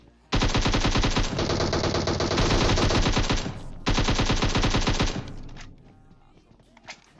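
Gunfire in the video game PUBG Mobile: loud sustained automatic bursts of rapid shots, a long burst, a brief gap, then another long burst, followed by quieter trailing sounds.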